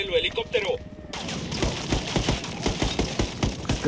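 Rapid gunfire in the video game Ghost Recon Wildlands, loud bursts of automatic shots in quick succession after a brief quieter moment, with game sounds in the background.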